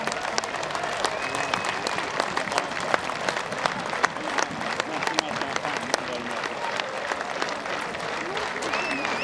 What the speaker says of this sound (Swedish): Vi ger applåder till skyttekungen nummer 10, Peter Samuelsson.